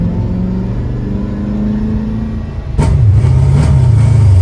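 Ford Mustang Shelby GT500E Eleanor muscle car engine idling with a steady low rumble, then a sharp revving surge as it pulls away on a hill start, loud and close with no talking.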